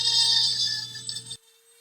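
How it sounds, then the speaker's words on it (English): A Dremel rotary tool cuts into an aquarium tank, giving a steady, loud, high-pitched whine with a buzzing drone underneath for about a second and a half before it cuts off abruptly into near silence. "Good old handy Dremel."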